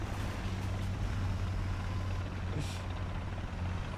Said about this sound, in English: Wait, is that a helicopter?